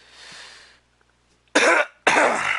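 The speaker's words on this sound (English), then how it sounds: "I've been trying to get rid of this cough." Two loud, close coughs in quick succession, each a harsh burst about half a second long, separated by a short pause after a stretch of quiet murmuring.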